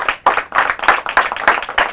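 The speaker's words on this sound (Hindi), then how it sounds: "तालियां हो जाए उनके लिए" A studio audience at a televised quiz show clapping for a team, a short burst of rhythmic, fairly loud claps in quick pulses, no talking.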